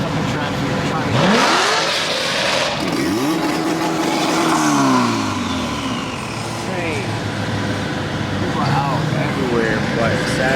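Cars rev and rumble through congested Saturday night traffic on the Gatlinburg strip, with engine sweeps rising and falling close by while voices talk over the din.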